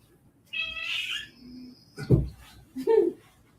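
A house cat vocalizing near a chair at home, a short meow-like call followed by a couple of brief chirping sounds, moderately close with small household noises around.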